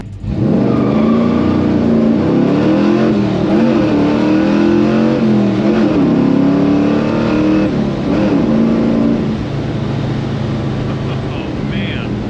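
An LS3-swapped Chevelle's V8 rumbles loudly and revs through sustained acceleration, heard from inside the car with the engine dominating the whole stretch.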